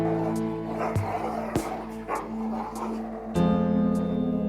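Tied-up dogs on a farm snarl and bark in several sharp bursts, with yelps and a whimpering tone, against a steady background hum and a musical drone.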